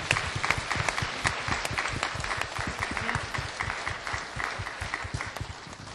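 A church congregation applauds a youth group steadily, many hands clapping together in a dense, sustained wash of sound at moderate volume.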